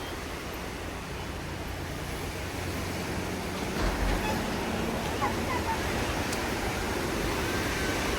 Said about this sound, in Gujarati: આ દરિયો છે